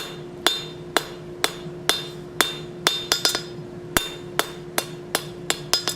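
A blacksmith's hammer striking hot steel on an anvil while drawing out a long taper for a plant hanger, with sharp ringing blows at an irregular steady rhythm, some in quick doubles, close and clear.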